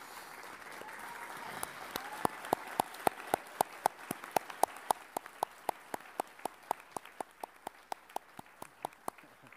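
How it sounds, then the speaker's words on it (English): Audience at an awards ceremony clapping slowly in unison, a steady rhythmic series of sharp single claps that speeds up slightly over time, ringing in a large hall with faint crowd murmur beneath. "can we please have everyone stand up for one clap for our friend"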